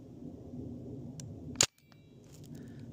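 A .68 caliber airgun fires a pepper projectile with one sharp, loud crack that cuts through soft background noise, followed by brief quiet and faint handling sounds.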